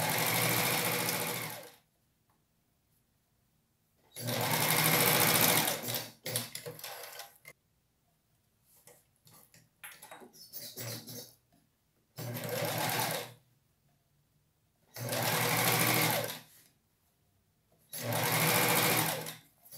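Domestic sewing machine stitching a knit blouse sleeve seam runs in short rapid bursts of a few seconds each, close and clear, with quiet pauses and faint handling noises between the runs.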